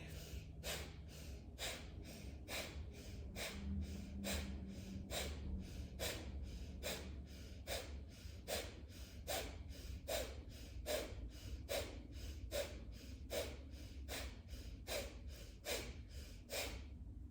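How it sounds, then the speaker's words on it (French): Rapid, rhythmic breath-of-fire exhalations in a kriya yoga exercise, about two sharp forceful puffs per second repeating steadily for the whole stretch, close and clear over a low room hum with no talking. "vous allez faire la respiration de feu avec une intention portée au nombril"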